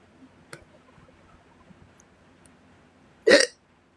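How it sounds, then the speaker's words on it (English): A single sharp human hiccup rings out near the end of an otherwise quiet stretch with faint background ticks. "Now I got the hiccups."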